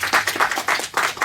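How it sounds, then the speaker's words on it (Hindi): Audience applause for the junior participants of a quiz show finale, a brief burst of dense clapping swelling and fading in quick waves with no voices over it. "एक बार जोरदार ताली सभी के लिए"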